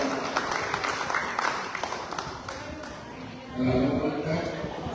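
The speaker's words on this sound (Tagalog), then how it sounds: "Palakpak po natin ang Alden Richards ng San Pablo." A seated audience at a senior citizens' general membership assembly and oath-taking applauds Alden Richards of San Pablo with a sustained patter of clapping under voices that swells louder near the end.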